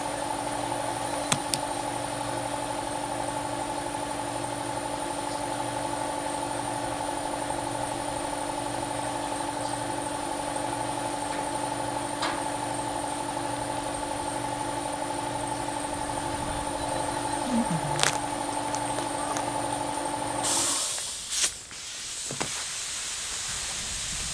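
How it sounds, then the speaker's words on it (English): An old, noisy air compressor runs steadily with a droning motor hum and a high whine in a garage working on a 1969 Oldsmobile Vista Cruiser, continuous for a long stretch before cutting off abruptly near the end. "get that noisy old compressor going"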